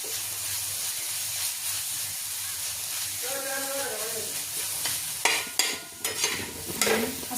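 Grated eggplant fries in oil in a pan, a soft steady sizzle with a few scraping stirs and clatters of the spoon near the end, heard close, and a voice speaks briefly partway through.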